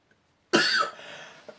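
A single sharp cough close to the microphone bursts out of silence, followed by a brief raspy tail and a small second catch.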